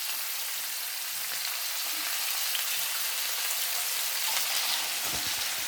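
Eggplant pieces hitting hot oil with potatoes already frying in a pan for a Maharashtrian vange batata bhaji, giving a steady, close, continuous sizzle with no talking.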